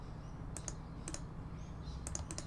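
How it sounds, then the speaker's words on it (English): Computer mouse clicks while working on game screen effects, sharp light clicks in quick pairs and small clusters, close over a steady low hum, with no talking. "Apologies for all the mouse clicking noises."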